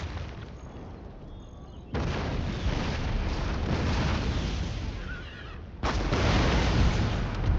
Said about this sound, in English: Holy crap, it's shooting at us.